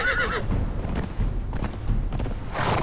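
A horse in Conan Exiles gives a loud, wavering whinny at the start, followed by scattered clip-clop hoof steps and thuds, then a second neigh rises at the end.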